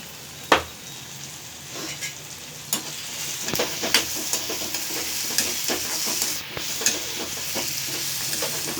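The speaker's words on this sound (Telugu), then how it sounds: "మంచిగా ఫ్రై అవుతున్నాయండి." Onions frying in a pan for egg fried rice, a steady sizzle broken by several sharp clacks of a spatula stirring against the pan.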